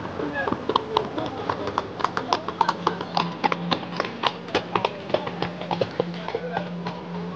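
Horse hooves clip-clop in a steady, brisk rhythm on a street in Krakow, Poland, fairly close, with people talking over the hoofbeats and a low engine-like hum underneath.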